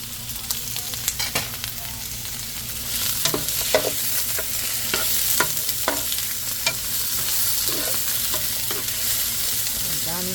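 Tofu frying in a pan with onion, a steady broadband sizzle throughout, punctuated by sharp scraping clicks of stirring, close and fairly loud with no talking.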